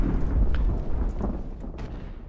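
Naval cannon fire from ships striking troops in an Age of Sail battle at Bunker Hill in Ultimate Admiral, a rumbling low boom with scattered crackling impacts that slowly fades.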